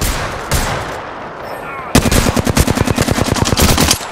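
Automatic machine gun fire in the Apex Legends video game, a loud rapid burst of evenly spaced shots lasting about two seconds, following a quieter stretch of in-game ambience with a single earlier report.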